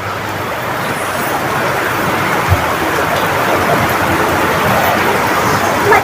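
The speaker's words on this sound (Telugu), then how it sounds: "వర్షాలు చూడండి ఎంత వర్షం పడుతుందో" Heavy rain pours down in a dense, continuous roar of steady hiss that stays loud and unbroken from start to finish.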